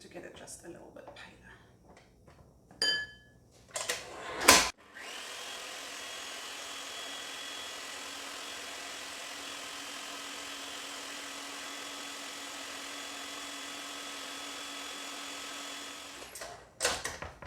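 Electric mixer beating buttercream for piped flowers, a steady motor whir running alone for about eleven seconds at moderate level, with brief scraping and handling clatter before it starts and after it stops.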